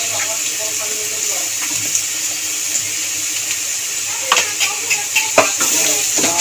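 Masala seasoned with salt and turmeric is sautéed, sizzling steadily while a utensil scrapes and clacks against the pan in a quickening run of strokes toward the end.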